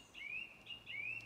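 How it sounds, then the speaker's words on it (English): Bird song in a woodland, as heard at a forest school or in a garden: two bright, rising whistled chirps about a second apart, fairly faint against a quiet background with no talking. "At forest school, we hear lots of bird song in the woods."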